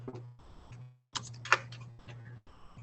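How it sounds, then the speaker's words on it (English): Soft clicks of a computer keyboard come in short irregular bursts under a faint low hum, quiet and close. "I'm just going to start with typing into the chat here"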